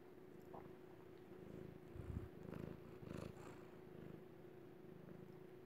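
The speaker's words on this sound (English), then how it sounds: "I don't know if you guys can hear him purring" A cat purring close by, a soft continuous rumble with a few louder swells, faint and alone with no voices.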